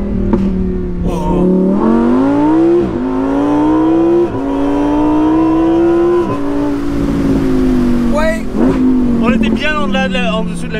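Lamborghini Huracan EVO RWD Spyder V10 engine revving hard, then blipping and popping through downshifts with rising and falling pitch, loud and close from inside the open car, with people talking over it.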